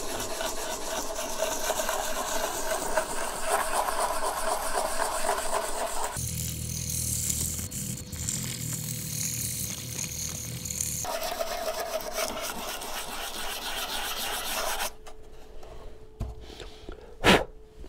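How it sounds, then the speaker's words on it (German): Steady, rasping strokes of sandpaper on a sanding block rubbing over a model railway building, close and continuous, with a brief change in tone midway and a knock near the end. "Und jetzt nehme ich mir ein Schleifpapier und einen Klotz und schleife das alles mal fein an."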